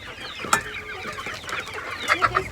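Chickens clucking in short, scattered bursts at moderate distance, some calls sharper and closer, with no one speaking.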